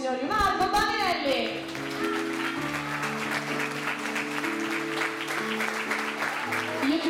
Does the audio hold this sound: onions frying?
no